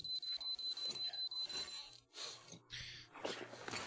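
A rapid electronic alarm clock beeps in quick repeated bursts for a couple of seconds in the video game Metro Exodus, then cuts off, leaving clattering game sounds behind.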